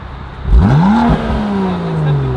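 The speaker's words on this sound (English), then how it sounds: "let's hear these revs" A car engine with an Active Autowerke midpipe and Remus race exhaust revs sharply, its pitch sweeping up, dipping, then holding a throaty rising drone, loud and close.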